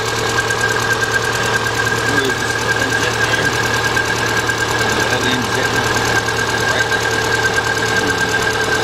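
A 2000 Subaru Impreza Outback with a 2.2 engine misfiring and running rough, a steady loud uneven idle with a knocking, stumbling rhythm and a constant high whine, close up and alone.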